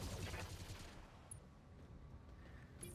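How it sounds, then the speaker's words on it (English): Mech firing all its weapons in the BattleTech video game, a faint rapid burst of gunfire that fades into low rumbling after about a second. "Firing all weapons."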